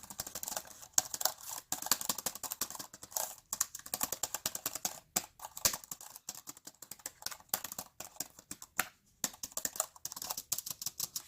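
Quiet, steady typing on an iClever GK03 wireless keyboard, close-up key clicks in quick irregular bursts with brief pauses, no talking.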